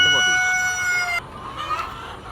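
Parent breeder chickens on a poultry farm cluck and crow close by, with a drawn-out tonal call in the first half and then a mix of clucks against a busy background.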